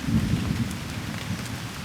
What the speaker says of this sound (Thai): แล้วตอนนี้ฝนก็ตกมามีฟ้าร้อง